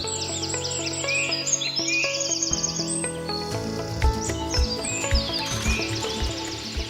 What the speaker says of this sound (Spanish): las aves llenan el cielo